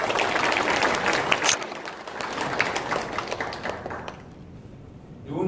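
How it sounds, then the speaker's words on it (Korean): An audience at a Gumi Chamber of Commerce breakfast meeting claps steadily in a dense, moderately loud burst that thins out and fades toward the end. "좀 늦었습니다만 큰 박수 부탁드리겠습니다."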